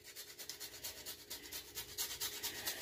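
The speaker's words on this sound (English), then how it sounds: "I'm just going to grate some nutmeg right onto the butternut squash." Whole fresh nutmeg rasped across a grater over butternut squash, a quiet rhythmic scraping of quick repeated strokes heard up close.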